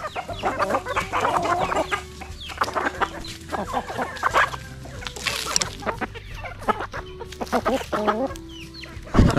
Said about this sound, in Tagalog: Kain tayo mga manok. Alaga natin.